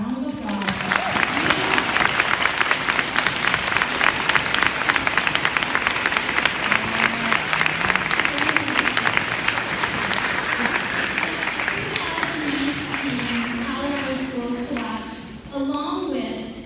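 Sustained, dense applause from a school audience at Flagstaff Academy fills the room for over fifteen seconds, with a speaker's amplified voice talking over the clapping throughout.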